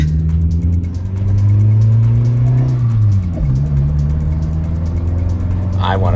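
Right-hand-drive Suzuki Jimny with a manual transmission, imported from Japan, driven on a road; the engine drones steadily and loudly, rising in pitch, then drops with a gear change and pulls again, with voices talking over it.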